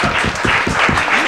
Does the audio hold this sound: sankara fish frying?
no